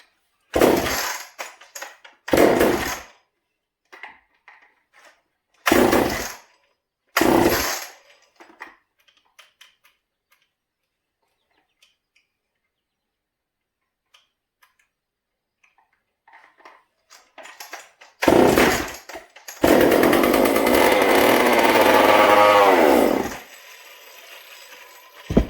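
A Homelite XL76 chainsaw, idle screw turned in, takes several sharp pull-cord attempts with silent gaps, then sputters briefly and runs at a loud steady roar for a few seconds before cutting out.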